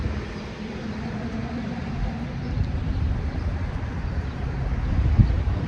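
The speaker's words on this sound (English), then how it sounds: "it's windy out here." Steady low rumbling wind buffeting outdoors at a camp, a broad continuous roar that swells slightly toward the end.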